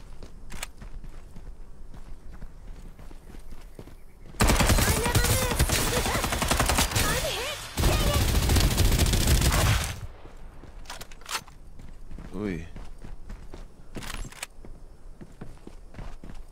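Sustained automatic gunfire from a competitive ranked video game, loud bursts lasting several seconds with a short break between them, preceded and followed by quieter footsteps and gear rattling.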